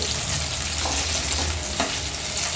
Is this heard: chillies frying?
yes